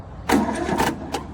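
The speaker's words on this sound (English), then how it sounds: "first I'm going to try to start my lawnmower just to show you that it's dead" A lawnmower engine with a dead battery cranks in a few short, labored bursts without catching, nearby and alone.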